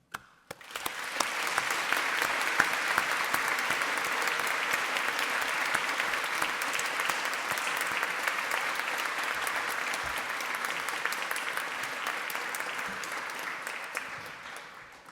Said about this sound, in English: one final round of congratulations and applause for our new alumni